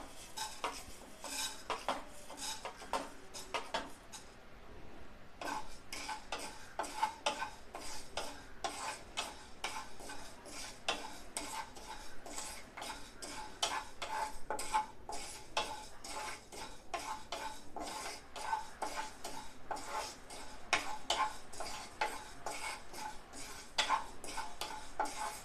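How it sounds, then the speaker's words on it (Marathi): Moong dal dry-roasted in a pan for a village-style masala, with continuous rapid scraping and rattling of a metal spoon against the pan, fairly faint and free of speech. "आता बघा, ही मुगाची डाळ भाजून घेते."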